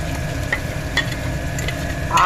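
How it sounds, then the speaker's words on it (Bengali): Fried minced meat is stirred in a hot pan, producing a steady sizzle broken by a few sharp clicks and scrapes of the spoon against the pan, close and moderately loud, with no speech. "এটাকে নাড়াছাড়া করব দেখো কিমাটা কিন্তু ভাজা ভাজা হয়ে গেছে"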